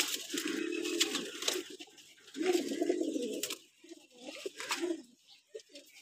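Pigeons coo repeatedly in a loft of bred racing birds, several low rolling calls rising and falling in bursts with brief pauses, fairly close and moderately loud, no talk over them.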